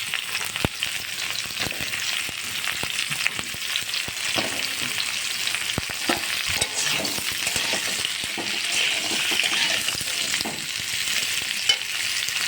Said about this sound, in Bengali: ওই তেলে আমি আলু, পটল আর পেঁপেগুলো একসাথে ভেজে নেব।